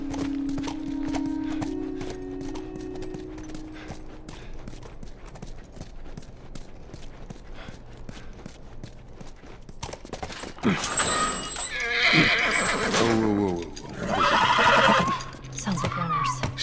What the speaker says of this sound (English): Stay with the horse.